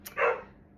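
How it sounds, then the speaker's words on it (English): A single short dog bark, sharp and fairly close, heard once before quiet. "my dog's barking"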